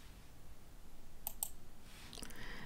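Two crisp, close computer mouse clicks come in quick succession over faint room hiss, followed by a couple of softer clicks a moment later.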